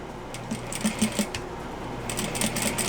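A sewing machine stitches plaid fabric in a quiet, steady run of small mechanical ticks and a soft motor hum, moderately close.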